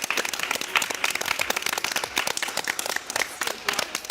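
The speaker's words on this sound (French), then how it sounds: "On peut vraiment les applaudir très très fort." Audience applause following a hypnosis tasting session on stage, a dense crowd of hands clapping steadily and fairly loud for about four seconds with no talk over it.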